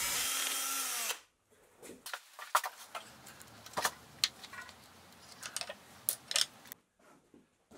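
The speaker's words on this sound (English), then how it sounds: "I'll drill a hole through the column and then I'll screw the bracket in." A power drill bores a hole through a metal mill column: a loud, steady whir for about a second that winds down, followed by scattered metallic clinks and taps nearby, with no talking.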